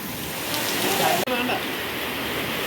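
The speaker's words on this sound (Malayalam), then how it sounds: "ഇതൊരു മഴയാണ് ഗായ്സ്." Rain falls in a dense, steady hiss, broken for a moment near the middle by a short gap.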